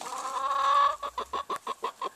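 A chicken gives a drawn-out call, followed by a steady series of short, evenly spaced clucks from a rooster and hens, close by and fairly quiet.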